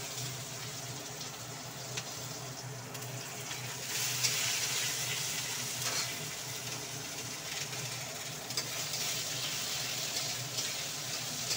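Chopped onion fries in oil with bay leaf and chilli, making a constant soft hiss over a low steady hum. The sizzle stays even and moderately distant, broken by a few faint clinks, with no talking.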